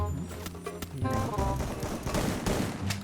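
Rapid automatic gunfire in the Free Fire battle-royale video game, bursts of shots crackling over a busy mix of game sounds and music, moderately close and continuous for a few seconds.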